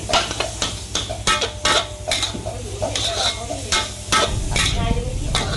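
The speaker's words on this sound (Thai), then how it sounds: "ผัดผัดผัดผัดจ้า ผัดไปเรื่อยๆนะจ๊ะ" Beef with holy basil is stir-fried dry in a pan, the spatula clattering and scraping against the metal in quick repeated strokes over a steady loud sizzle, close up.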